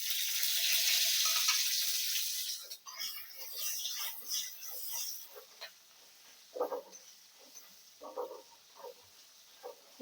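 Green chillies tossed into a hot pan for a home-cooked dill dish, a bright sizzling burst at first that settles into quieter crackles and scattered pops, close and soft.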